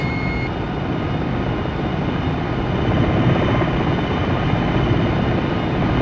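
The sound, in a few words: enemy helicopters in a Black Hawk video game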